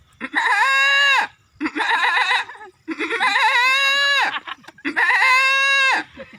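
A voice mimics a goat bleating, four long wavering bleats, close and loud, with short pauses between them.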